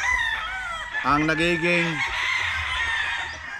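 A rooster crows loudly and close by, with hens clucking around it and a brief voice speaking over the farmyard noise.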